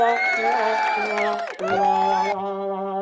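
A soundboard-style crowd cheering and applause effect plays loud and continuous for about three seconds, with whoops and shouting over steady clapping, then thins near the end.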